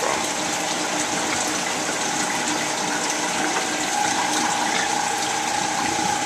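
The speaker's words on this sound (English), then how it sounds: "my pump's starting to suck a little bit of air." A pond pump drawing in air churns and bubbles water in a steady, loud, continuous gurgling rush, with a faint thin tone creeping in toward the end.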